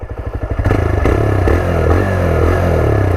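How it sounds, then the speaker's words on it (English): A TVS Raider motorcycle engine starts with rapid thumping pulses, then settles into a loud, deep, throaty exhaust rumble that holds steady up close. "let's hear the exhaust note. Actually the exhaust sounds good"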